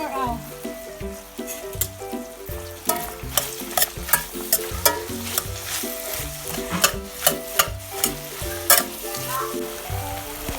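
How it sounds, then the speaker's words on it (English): Chopped onion frying and being stirred in a pan while cooking stuffed zucchini, with a steady sizzle broken by repeated sharp scrapes and knocks of a utensil against the pan, close and fairly loud, with music layered underneath. "Add the chopped onion."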